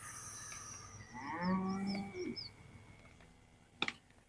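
A single long, low cow moo rises and fades, heard outdoors at moderate distance, with faint birdsong around it and a sharp click near the end.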